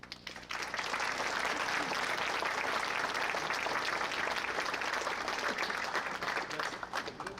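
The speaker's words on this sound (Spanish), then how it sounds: "Recibamos en este estrado con un gran aplauso" An audience at a social economy conference gives a speaker sustained applause, a dense, even roar of clapping that rises quickly and holds steady for about seven seconds.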